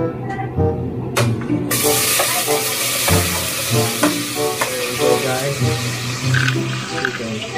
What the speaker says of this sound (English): We're gonna stir fry first.